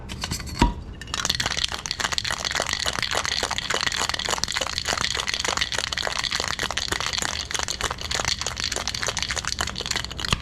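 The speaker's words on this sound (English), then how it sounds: "Alright, I'm going to whip this up, a couple of cubes." A cocktail is whipped with a couple of ice cubes, giving a loud, steady rapid rattle and crunch of ice against the container after one sharp initial clink, close up and without talking.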